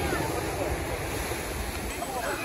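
Broadband surf roar from the sea at Chakratirtha beach in Puri, steady and continuous with wind buffeting the microphone, no distinct wave breaks standing out.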